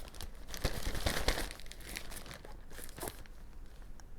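Vintage 1950s scissors struggle to cut open a compostable bag, producing a steady crinkling and crumpling of plastic with a few sharper snips and tears, close and fairly quiet with no talk.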